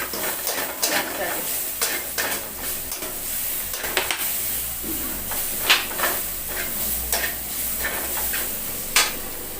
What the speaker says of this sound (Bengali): পেঁয়াজের উপরে দিয়ে দেব লবণ একটু নাড়াচাড়া করে নেব